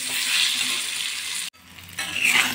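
Fish pieces fry in hot oil with a loud, close sizzling hiss. It breaks off briefly midway, then returns just as strong.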